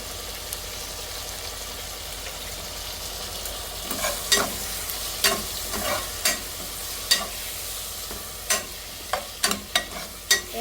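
Breadfruit curry masala with tomato and spices fries in a pan: a low steady sizzle at first, then repeated scraping stirs of a spoon against the pan, coming in irregular bursts and growing more frequent toward the end.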